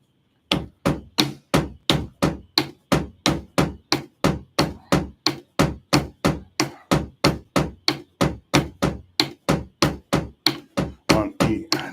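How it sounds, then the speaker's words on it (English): A drum kit plays a steady, fast groove, with 16th notes on the bass drum under an 8th-note hi-hat pattern, giving a dense, even run of sharp hits close up with no talking. "I'm going to play all the other 16th notes on the bass drum while keeping 8th note time with my hi-hat."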